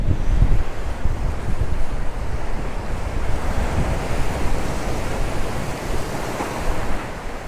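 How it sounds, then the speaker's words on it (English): Big waves wash against the shore at Santa Ponsa, Mallorca, in strong stormy wind, a constant loud roar of surf mixed with heavy wind buffeting the microphone. "even bigger waves are washing against."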